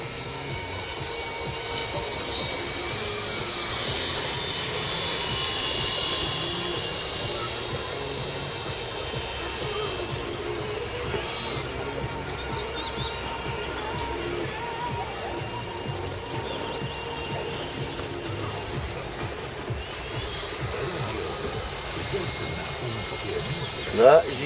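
Steady high-pitched buzzing drone of a small RC model aircraft engine running at half throttle, fairly close, with faint voices underneath.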